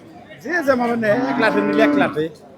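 A cow lets out one long, loud, close moo at a busy cattle market, with faint background noise behind it.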